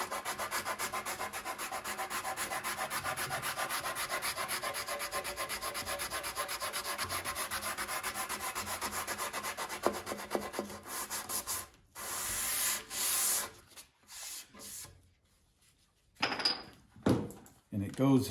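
Hand sanding of a wooden cove, worked at an angle to blend into a countertop, giving a steady continuous rubbing scrape for about ten seconds, then broken, intermittent strokes with pauses and quiet gaps.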